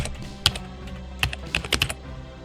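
Several sharp clicks of typing on a computer keyboard, a short isolated keystroke followed by a quick irregular burst of taps, close and clear with no talking.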